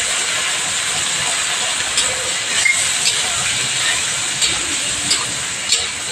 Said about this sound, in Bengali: বাটা লঙ্কা একটু ভালো করে ভেজে নিতে হয়